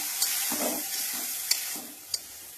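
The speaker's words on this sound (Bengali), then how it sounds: "তেলটা গরম হয়ে গেছে, শুকনো লঙ্কাটা ভেজে নেব।" Dried chillies fry in hot fish oil with a loud, continuous close-up sizzle, broken by a few sharp clacks as the pan is stirred.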